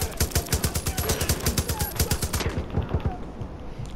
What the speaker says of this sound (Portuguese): Olha quantos tiros eu já dei nesse desgraçado e ele não morreu.